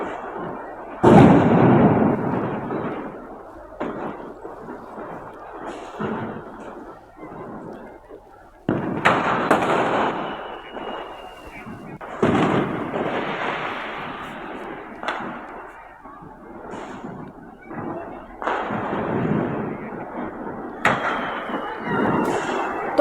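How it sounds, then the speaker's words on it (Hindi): Fireworks and firecrackers go off at a residential housing society in Ghaziabad during Diwali, with repeated loud bursts and crackling at irregular intervals and quieter gaps between. "जहां पर आतिशबाजी हो रही थी"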